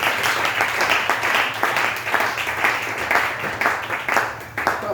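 A church congregation applauds continuously during a service, a steady dense wash of many hands clapping, with a speaking voice faintly underneath.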